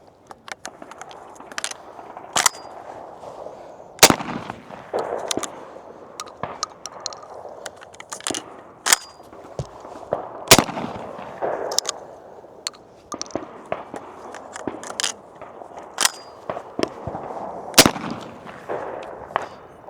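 Browning Silver shotgun fitted with a shell catcher, sharp loud reports standing out among many scattered clicks and knocks against a quiet background.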